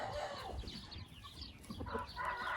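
Aseel roosters on a farm give low clucks and calls amid busy farmyard background noise, moderately distant and faint throughout.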